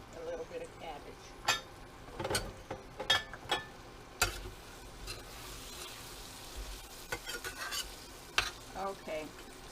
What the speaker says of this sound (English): stir fry the vegetables for 4 or 5 minutes